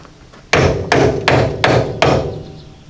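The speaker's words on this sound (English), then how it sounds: "I happen to have a hammer right here" Five sharp metallic hammer strikes on rusted Jeep YJ windshield hinges, evenly spaced and loud, each ringing briefly before the next blow.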